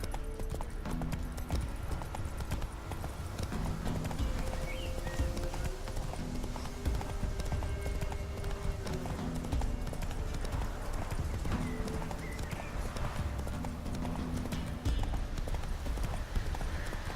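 Horse hooves clip-clopping at a steady, continuous gait in the video game The Witcher 3: Wild Hunt, close and rhythmic under a constant bed of game sound and music.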